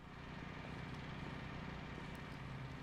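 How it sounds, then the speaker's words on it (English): A generator hums in the video game What Remains of Edith Finch, a steady, dense, low drone that fills the dark room evenly and without a break. "How did I not hear that generator before I opened the door?"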